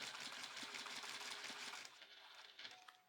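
A sewing machine back stitches along bias tape, its needle running in a fast steady patter that slows and turns sparse toward the end, fairly quiet and close with no talk over it.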